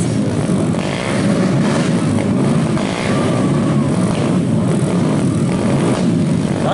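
Honda 50 small motorcycles racing at the Deal's Gap motorcycle resort, a dense continuous buzz of small engines revving together, loud and steady throughout with no talk.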